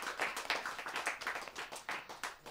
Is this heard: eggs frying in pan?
no